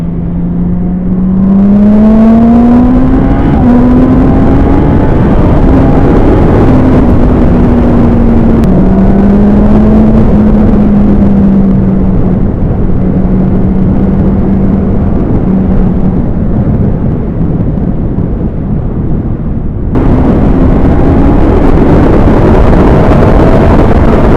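A motorcycle fitted with a Healtech QSE quickshifter accelerates hard, engine note climbing repeatedly through quick clutchless upshifts with short dips between gears, loud and continuous, ending with another rising pull.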